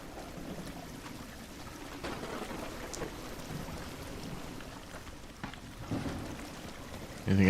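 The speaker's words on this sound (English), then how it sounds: "It's raining Brondo." Steady rain falls in a plumbing simulation video game about unclogging drains and fixing floods, a soft continuous patter lasting throughout at low level with no talk.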